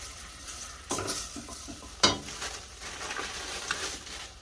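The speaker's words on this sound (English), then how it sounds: "So I'm just going to fry that off." Dried garlic frying in a pan sizzles softly and steadily while a utensil stirs it, with a few scraping strokes and a sharp knock against the pan, close up.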